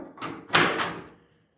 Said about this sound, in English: Let me grab my trusty door handle here.